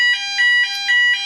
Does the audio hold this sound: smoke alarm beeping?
yes